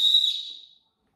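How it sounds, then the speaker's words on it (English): A normal lanyard whistle gives one short, shrill, steady blast, loud and close, that fades out within a second and leaves silence. "So just like this, normal whistle, right, with a lanyard."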